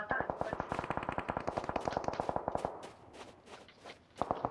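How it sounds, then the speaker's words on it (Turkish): UMP submachine gun fire in PUBG Mobile on the Miramar map, a long rapid burst of evenly spaced shots, then scattered single shots and a short final burst, fairly loud with no talk. "Ramazan arkadan sıkıyorlar sanki evet birileri. UMP sıktı sanki."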